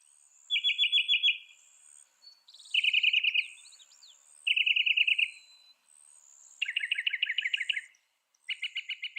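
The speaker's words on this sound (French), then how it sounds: "Une étude de 1987 a classé des milliers de chants de seulement 4 oiseaux moqueurs." Mockingbird song: a series of bright, rapid trilled phrases, each repeated several times in quick bursts with brief pauses between, shifting to new patterns, clear and fairly close with no voices.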